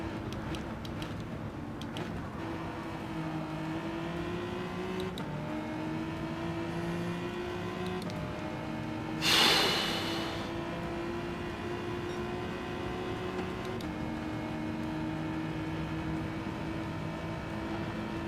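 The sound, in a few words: car driving off-road in video game Gran Turismo 7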